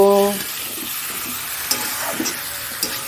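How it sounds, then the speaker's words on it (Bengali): Eggs are stir-fried into a spice masala with tomato and green chilli paste, a low sizzle under several sharp, close scrapes and clinks of the spatula against the pan. "এবার ডিমটা দিয়ে দেব ডিমটা দিয়ে এবার কষাবো"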